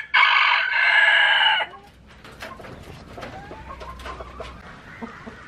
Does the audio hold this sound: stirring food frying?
no